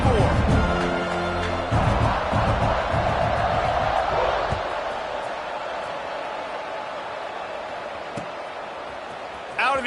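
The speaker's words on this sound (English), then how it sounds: "this crowd is buzzing after that last score" Stadium crowd buzzing in a college football video game, a dense continuous roar of many voices at steady loudness throughout, with a few sharper thuds early on and a commentator talking over it.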